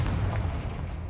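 A Confringo blasting spell explosion in a video game, a dense, loud low-frequency blast and rumble that fills the whole short moment without pause or voices.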